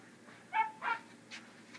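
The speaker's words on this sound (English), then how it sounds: "because I hear her barking" A few short, high yips or barks, faint and somewhat distant, spaced unevenly across a quiet background.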